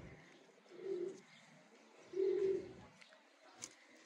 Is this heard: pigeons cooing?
yes